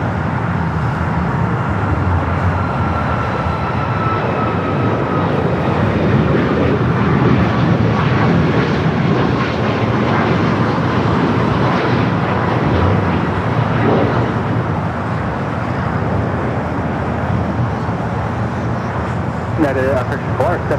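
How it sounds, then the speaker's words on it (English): An Air Canada Boeing 737 MAX 8 taking off at Los Angeles airport, a loud sustained broadband jet roar that holds steady throughout, with faint radio chatter and voices underneath. "we got that 737 MAX 8 Air Canada now take it off"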